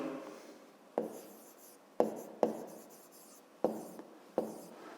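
A pen writes on paper during a math lesson, close and quiet, with scratchy strokes broken by five or six sharp taps as the pen lifts and lands, no talk heard.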